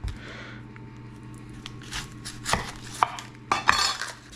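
Onion pieces are laid into a pot of browned chicken bones for stock, giving a few soft thuds and scraping knocks that grow sharper toward the end, close by with no talk.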